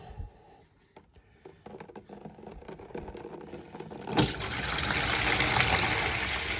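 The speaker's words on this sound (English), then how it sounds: "I'm just taking the sump plug out to let a bit of the water out first and just fill the bucket once" Water drains from the sump of an 82-year-old John Deere Model AR tractor into a bucket. Quiet dribbling rises into a steady, louder splashing trickle once the plug comes out.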